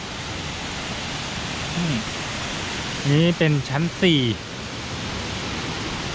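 The fourth tier of Kroeng Krawia waterfall rushes with a loud, even roar throughout, while someone speaks briefly over it.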